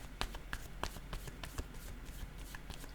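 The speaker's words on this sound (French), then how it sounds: "Je pense que je vais déposer une carte ici et une sur coupable." Tarot cards being handled and laid down on a table, a run of quick close papery taps and slaps, light and irregular, no talk.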